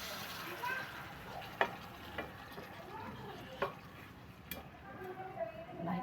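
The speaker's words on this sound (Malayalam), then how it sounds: "ഫ്ലെയിം കുറച്ച് വെച്ചിട്ട് വേണം നമ്മളിത് ഇട്ട് ഇളക്കാനായിട്ട്." Mango curry stirred in a pan over a low flame, soft sizzling with a few sharp spoon clicks against the pan, close and steady, no voices.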